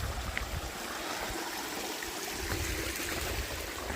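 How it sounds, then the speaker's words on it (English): Small stream on the Appalachian Trail in Vermont, a soft continuous babble and trickle of water at a quiet, steady level with no voices. "Another nice little stream here."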